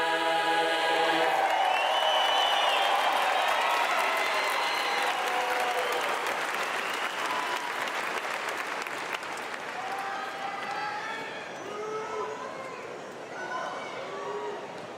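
A high school graduation audience applauding at length, a dense wash of many hands clapping that holds steady, then slowly thins and fades, with cheers and voices mixed through the crowd.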